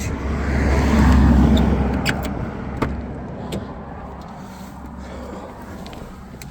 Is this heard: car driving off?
yes